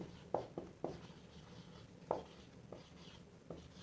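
Pen or chalk writing during a class 12 modular arithmetic lesson: several sharp taps and short scratches, close and fairly faint, spaced irregularly over a quiet background.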